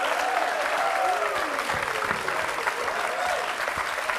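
Studio audience applauding steadily at a French television makeover show, a dense continuous clapping wash with a tonal whistle-like line running beneath it throughout.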